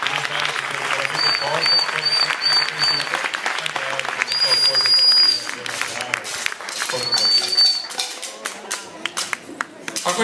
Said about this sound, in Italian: Un altro applauso al gruppo